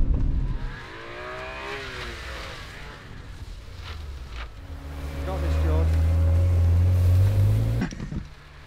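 BMW M3 engine revving hard through a handbrake spin, rising then holding a steady high drone before cutting off, with voices talking over the first part.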